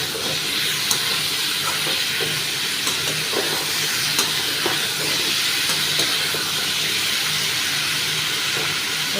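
Pumpkin curry cooked without water, stirred in a pan over the stove, giving a constant broad hiss and sizzle with faint scraping under it.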